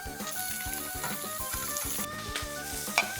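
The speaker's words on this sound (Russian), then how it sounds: "Пока цыпленок жарится" Chicken tapaka frying in hot vegetable oil in a pan under a weight: a steady, close sizzle with crackling and occasional sharper pops, under some background music and without talk.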